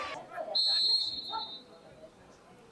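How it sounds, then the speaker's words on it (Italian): A referee blows a single sustained whistle blast during Napoli against Catania in a national youth football final, clear above faint crowd noise and scattered background sounds. "Fischia l'arbitro"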